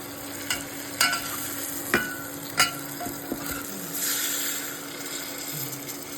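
A utensil stirs and scrapes potatoes frying in a pan, with sharp intermittent clinks over a steady soft sizzle, close by and without talk.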